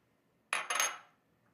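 Butter dropped into a fondue pot for Brie fondue: two quick metallic knocks against the pot in a quiet kitchen, fading out within half a second.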